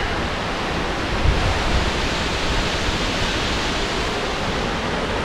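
Tuolumne Falls in Yosemite's Grand Canyon of the Tuolumne River thunders in an unbroken, full-bodied roar, close and loud, with a short low wind thump near the start and no talking.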